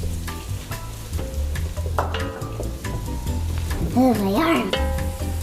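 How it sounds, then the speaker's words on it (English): Pumpkin seeds toasting in a pan while being stirred by a child: close sizzling and crackling with scraping stirs, with people talking over it. "Rory is gonna stir up the pumpkin seeds"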